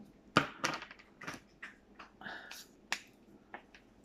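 A cat crunches dry kibble up close, making a series of sharp, crackly crunches at irregular intervals, loud at first and then softer, with no talking.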